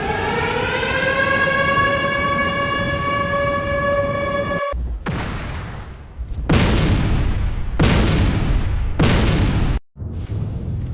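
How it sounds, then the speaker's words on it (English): A harmonic siren tone rises and holds for several seconds, then gives way to loud, broadband bursts and rumbling blasts that come in repeated surges. "emergency sirens have been heard across major cities"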